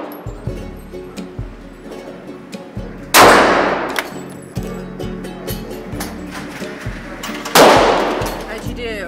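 Gunfire at a shooting target: two loud, close gunshots about four seconds apart, each with a long ringing decay, over lighter clanks and knocks.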